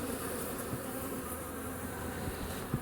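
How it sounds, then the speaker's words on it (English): Bees swarm around a hive where new wax comb is being drawn out, some carrying pollen, giving a steady, dense buzzing hum that fills the space close by, with no voices. "Lots of bees."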